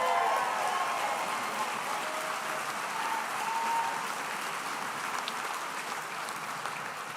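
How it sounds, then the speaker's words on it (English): Crowd applause at an outdoor political event at the Calgary Stampede, a sustained wash of many hands clapping with faint cheers and whistles, gradually tapering over several seconds. "you can always interrupt my remarks to applaud our oil and gas sector"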